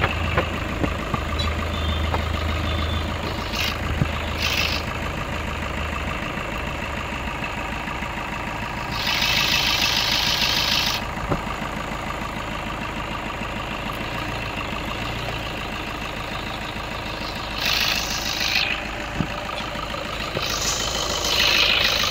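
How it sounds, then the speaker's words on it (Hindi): A Maruti Suzuki Ciaz engine keeps idling with its negative battery terminal removed, a steady mid-pitched hum with no talk over it, broken by a few brief hissing bursts. "इंजन जो है वो ऑफ नहीं हुआ, मीन जितना भी इसका चार्जिंग सिस्टम है वो प्रॉपरली वर्क कर रहा है।"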